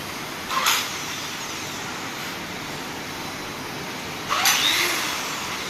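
A digital machine in a workshop twists the ends of GI wire fencing with a loud, continuous mechanical whir that surges briefly twice, with no voices over it.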